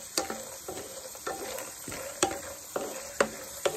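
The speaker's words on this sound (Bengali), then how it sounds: "দেখুন বাদামগুলো ফেটে ফেটে যাচ্ছে আর একটা সুন্দর স্মেল ছাড়ছে ভাজার।" Peanuts frying in a pan for chire pulao (poha) give sharp crackling pops, about half a dozen distinct snaps over a soft, steady sizzle, with no voices.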